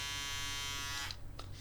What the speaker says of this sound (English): you can hear these little hairs being cut off by the shaver